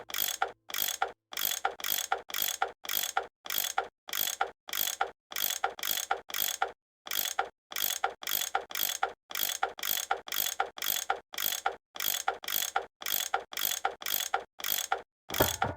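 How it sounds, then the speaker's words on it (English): Steady mechanical ratcheting from a wrench loosening bolts in Nancy Drew: Last Train to Blue Moon Canyon, a fast run of clicking bursts repeated over and over with brief gaps, loud and clear with no talk. "That tool I saw in the caboose. I bet that's what you use to unscrew these bolts."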